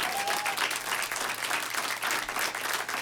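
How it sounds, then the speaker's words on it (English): Street magic show audience on the Las Vegas Strip applauding, a steady wash of clapping from a crowd heard from a little distance, with a brief whistle near the start. "now is whenever that you can open your hand and take some applause"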